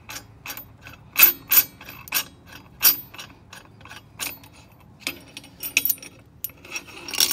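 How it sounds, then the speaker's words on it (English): The primary clutch bolt on a 2017 Polaris Ranger 1000 XP is removed, giving a close series of quick metallic ratcheting clicks and clinks in irregular bursts, with quiet gaps between them. "After loosening the bolt by your preferred method, remove the primary clutch bolt."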